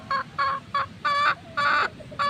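A hen gives repeated loud, nasal calls in evenly spaced bursts, about six in a row, close by with quiet pauses between and no talking.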